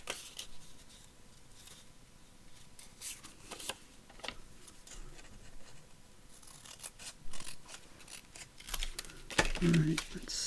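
Scissors cut through paper while making a craft folio page, scattered snips and rustles at close range, with a voice speaking softly near the end.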